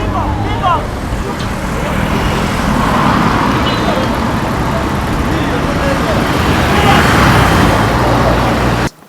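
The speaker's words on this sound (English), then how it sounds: "pedestrians and boda riders compete in dodging the speeding cars" Heavy road traffic on Entebbe Road in Uganda streams past steadily, with speeding cars and boda motorcycles making a dense, loud roar that continues throughout.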